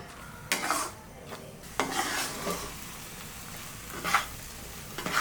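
Eggs being stirred in a hot pan for cauliflower egg podimas: a utensil scrapes and clicks against the pan in several separate bursts over a soft, steady sizzle, close and moderately loud, with no talking.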